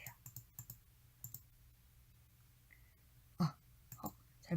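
Faint computer mouse clicks while editing in Photoshop, a few quick clusters of light taps with quiet pauses, accompanied by soft speech.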